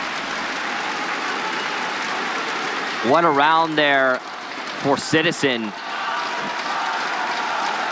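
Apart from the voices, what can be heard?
esports crowd cheering at Rainbow Six Siege Pro League finals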